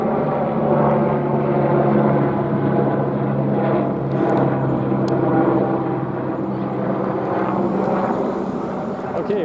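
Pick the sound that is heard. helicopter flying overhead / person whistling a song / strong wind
helicopter flying overhead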